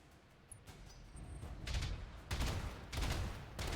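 Missile barrages in the mech game Battletech, a series of loud rumbling salvos of rapid explosive impacts building in waves over a low background, no talk.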